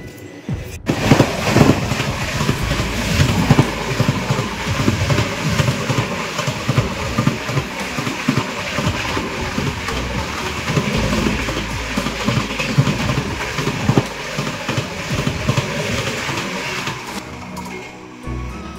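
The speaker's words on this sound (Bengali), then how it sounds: "এটা ছিল ইন্টারসিটি এক্সপ্রেস যেটা যাচ্ছে বিজয়ওয়াড়া" An Intercity Express bound for Vijayawada roars past close by, a loud sustained rush and rumble of wheels and carriages lasting most of the stretch before falling away at the end.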